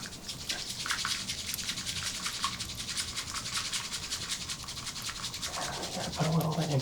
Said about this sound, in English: this whisk is made up of small carved bamboo